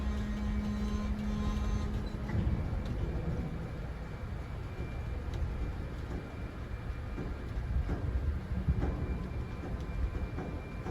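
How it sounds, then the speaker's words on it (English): A long freight train with over two miles of slack eases out slowly on a line along the Hudson, a steady low rumble with a brief tonal hum early on, faint and continuous with no talk. "You gotta be gentle with this train."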